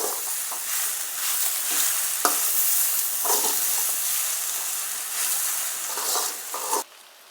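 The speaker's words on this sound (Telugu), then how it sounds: "ఇందులోనే మనము ఉడికించి పెట్టుకున్న కందిపప్పును కూడా యాడ్ చేయాలి ఈ మొత్తం కలిసేలాగా బాగా కలబెట్టుకోవాలి" Cooked toor dal being stirred into a moringa leaf fry in a pan, a steady sizzle under repeated scraping strokes of a spoon, close and fairly loud, cutting out abruptly near the end.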